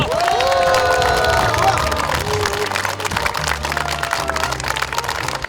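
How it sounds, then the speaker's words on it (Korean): A crowd claps and cheers at an election campaign launch rally in Busan, South Korea, with whoops and shouts over a dense bed of applause and some babble, lively and close. "박수 함성으로 시작하겠습니다"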